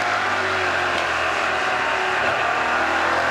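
NASCAR Pinty's Series race cars roar under acceleration on track, a dense, continuous engine drone at steady high loudness with no talk over it.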